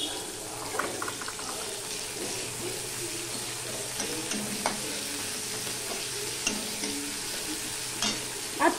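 Onions frying in hot oil with nigella seeds for a taro and fish curry, a continuous close sizzle broken by stirring scrapes and a few soft clinks, no talking.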